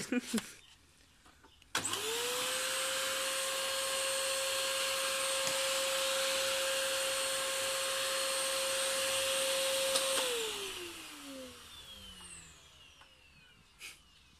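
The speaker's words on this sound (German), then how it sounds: "jetzt haben wir einen Staubsauger, jetzt sagen wir einfach die warme Luft weg, dann bleibt die kalte übrig." A vacuum cleaner switches on abruptly, runs with a loud steady whine for about eight seconds, then winds down in a falling pitch; brief thumps are heard before and after.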